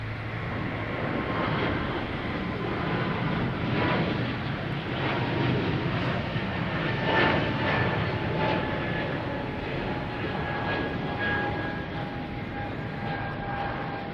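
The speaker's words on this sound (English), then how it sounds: "There's that Delta from Richmond just came in. E175, flight 5665." A Delta Embraer E175 jet arriving at Boston Logan from Richmond gives a steady, moderately distant engine roar with a faint whine, constant throughout and with no voices.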